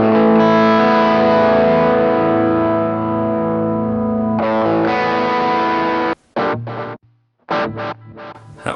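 A sustained electric guitar chord through a BOSS GX-100's delay effect rings out with echoing repeats, then chopped, stuttering bursts cut in and out toward the end.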